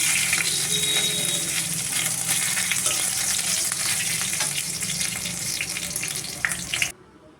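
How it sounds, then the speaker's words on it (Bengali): Crushed ginger frying in hot oil with cumin while being stirred, a loud continuous crackling sizzle with scraping stirs, cutting off abruptly near the end. "আদা থেঁতো দিয়ে দিচ্ছি থেঁতো করে রাখা আগে থেকে একটু নাড়াচাড়া করে নিচ্ছি"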